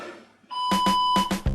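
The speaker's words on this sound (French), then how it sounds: "jusqu'à la fin du bip" Electronic exercise-timer beeps during a beginner abdominal circuit: a steady tone, then four short sharp beeps in two pairs, a final lower buzz at the end, loud and close with no talking.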